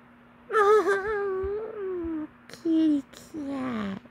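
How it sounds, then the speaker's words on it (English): A cat lets out long, drawn-out wailing meows, three drawn-out cries with short pauses between, close and fairly loud, over a steady low hum. "Oh, hold on, there's a cat in this."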